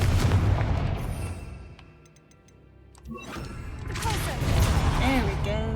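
Explosive spell blasts in the Hogwarts Legacy video game, loud booming bursts with rumbling, a quieter dip in the middle, then renewed crashing impacts and game effects.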